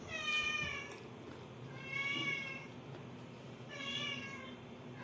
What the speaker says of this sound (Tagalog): May iyak ang pusa, nahihingi ng pagkain.